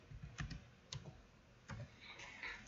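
Typing a world name on a PC keyboard for Minecraft, a few quiet scattered keystrokes and clicks heard close and alone.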